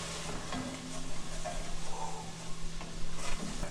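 White wine pours into a hot braising pan used for chicken, setting off a steady hissing sizzle with small bubbling crackles and occasional spits, moderately loud and close.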